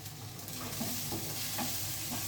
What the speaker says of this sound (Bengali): সব কিছুকে ভালোভাবে মিশিয়ে নেব